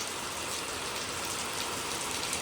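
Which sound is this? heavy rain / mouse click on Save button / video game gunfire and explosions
heavy rain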